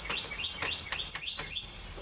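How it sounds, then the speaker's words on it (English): Several small birds chirp in a quick repeating rhythm in a backyard in the morning. The clear, high tweets come in steady bursts over faint outdoor background noise. "Lots of birds in the background"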